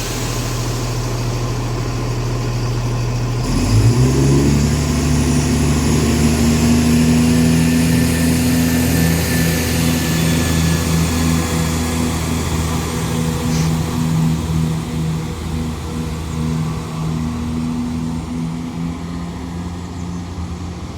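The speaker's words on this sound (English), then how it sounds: "170-103 departs Tamworth now with the 1606 cross country service to Nottingham from Cardiff Central" A Class 170 Turbostar diesel multiple unit pulling out of Tamworth station, its engine revving up from idle into a steady, loud, droning throb that holds close by for the whole stretch, with no voices.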